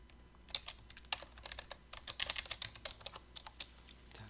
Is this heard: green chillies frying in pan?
no